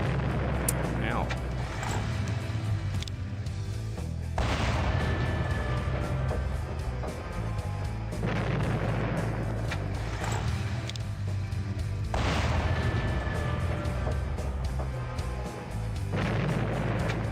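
Siege artillery in a Warhammer 40K video game fires again and again, heavy booming blasts over a steady rumbling battle din, with someone talking throughout.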